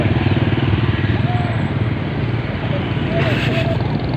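Motorcycles run steadily along a roadside in Purbalingga after a whirlwind, a loud continuous buzzing engine drone close by, with a person speaking over it.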